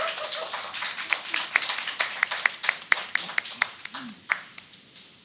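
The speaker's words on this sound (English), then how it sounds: "that's a round of applause" Applause at a Burns Night supper: a small group clapping, with sharp, separate claps that speed up and then thin out to a few last claps, plus some faint voices in the room.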